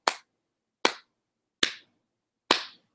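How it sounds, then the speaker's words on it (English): Four slow, spaced-out handclaps ring out alone in a quiet room, each a crisp single clap with a short decay, unenthusiastic and evenly paced. "even when he has a good game, it's like a golf clap."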